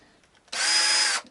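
A hand drill bores a string-through hole into a guitar body: a sudden, loud, close whirring burst of about three-quarters of a second that starts abruptly after a quiet moment and stops cleanly.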